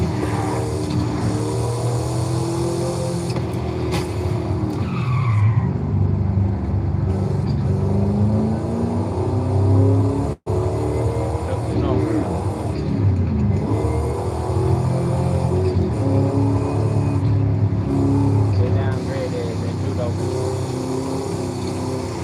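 A Dodge SRT roars through a Forza Horizon 5 drive, engine note rising and falling with gear changes and tyre squeal, loud and continuous, a voice talking over it, with one abrupt dropout midway.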